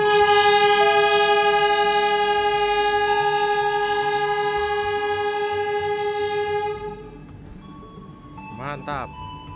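The Fajar Utama Solo economy train runs along the line, sounding a long, loud multi-tone horn that holds for several seconds and then cuts off, followed by a brief wavering tonal sound near the end.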